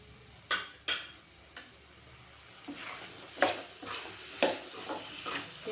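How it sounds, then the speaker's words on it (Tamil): Chopped vegetables being sautéed and stirred in a pan for a simple vegetable gravy, with scattered scraping clinks of a spoon against the pan over a soft background sizzle, close and fairly quiet. "சேர்த்துட்டு நல்லா வதக்கி விட்டுக்கோங்க."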